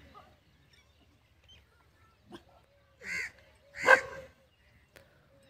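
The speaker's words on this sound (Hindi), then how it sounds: "ये छेड़ू के साथ 2 कुत्ते भी हैं" Two short barks from a herding dog out with a flock of around sixty grazing sheep, fairly close and separated by a brief gap, with a faint sound or two between them and otherwise quiet surroundings.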